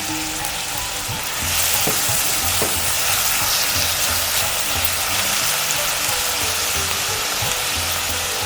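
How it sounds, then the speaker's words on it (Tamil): Onions sautéing with a little salt in a pan while preparing Karnataka poori sagu, giving a loud, steady frying sizzle that swells after a second and continues evenly, with faint stirring knocks and no voices. "வெங்காயம் பாருங்கள் நல்லா வதங்கிட்டு நல்லா மாதிரி ட்ரான்ஸ்பரண்ட் ஆகிடுது"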